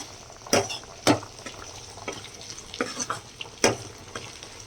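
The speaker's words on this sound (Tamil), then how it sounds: "இந்த சைடு குழம்பு கொதிச்சிட்ருக்கு." Bubbling and sizzling of goat head curry in a pot, with a few sharp clinks and scrapes of a utensil against the pot, close by.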